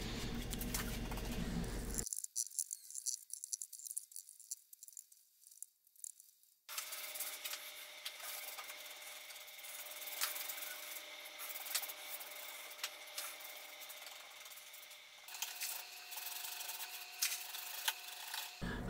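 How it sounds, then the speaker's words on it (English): A paintbrush applies thin coats of paint to a wooden dresser, giving soft, close rubbing and scraping strokes in an uneven rhythm, with a quieter stretch in the middle and no talking. "I'm using a brush to apply this paint, and I'm applying multiple thin coats with the brush"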